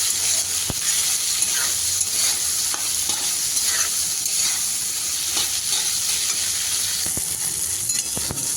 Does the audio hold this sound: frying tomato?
yes